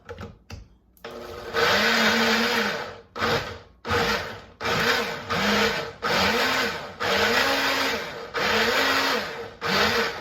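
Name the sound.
blender blending strawberry kale smoothie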